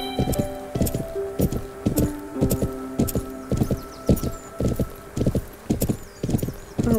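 Horse hooves trotting on the ground in the Planet Horse video game, a steady run of loud, close clip-clop beats with a brief whinny, no talk over them.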